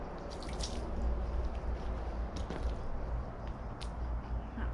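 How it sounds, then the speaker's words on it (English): Water from a jug poured over an item being rinsed off outdoors, a steady splashing wash with scattered drips, fairly faint and continuous, without talk. "so I'll just throw this jug of water over it"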